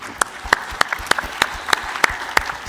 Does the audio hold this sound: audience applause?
yes